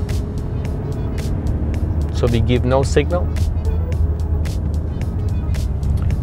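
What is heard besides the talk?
car driving through a roundabout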